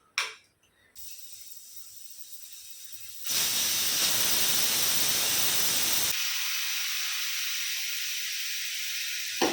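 A pressure cooker missing its whistle weight vents a loud, steady hiss of steam that swells for a few seconds, then settles to a softer continuous hiss.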